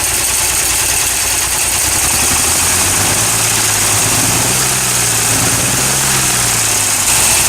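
A steady engine idles continuously, with a faint repetitive clacking from an exhaust valve running through the low rumble, close and fairly loud throughout.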